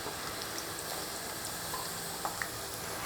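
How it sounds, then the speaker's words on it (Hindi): Potato slices frying in hot oil for homemade chips give a dense, continuous sizzle with scattered small pops, steady and close throughout. "ऐसे 1 मिनट बस और इसको फ्राई होने देंगे ताकि ये फुल क्रिस्पी हो जाए।"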